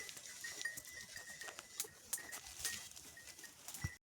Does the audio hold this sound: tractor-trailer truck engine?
no